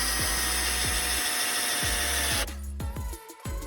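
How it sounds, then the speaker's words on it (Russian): Cordless screwdriver driving a self-tapping screw, a loud close whirring motor with a steady ticking clutch rhythm that abruptly drops away near the end, leaving quieter clicks. "Больше не нужно выбирать силу затяга, потому что шуруповерт сам остановится,"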